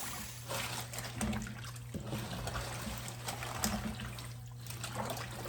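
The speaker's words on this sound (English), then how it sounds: "then I'll start rinsing and cleaning and picking the greens" Water runs and trickles steadily while collard greens are rinsed for cooking in a kitchen, a quiet splashing flow with small bursts of handling and a faint steady hum underneath.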